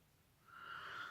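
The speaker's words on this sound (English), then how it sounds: "Apologies for my dog in the background." A pet dog wheezes and snorts faintly in the background of a quiet room, one brief raspy breath rising over about a second.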